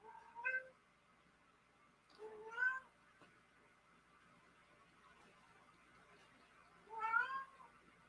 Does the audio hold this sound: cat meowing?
yes